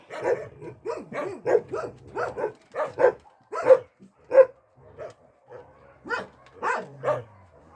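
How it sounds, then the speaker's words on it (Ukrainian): A rescued ginger shelter dog barks repeatedly at close range, a run of sharp, evenly spaced barks followed by a few softer, scattered ones. "Чудовий пес."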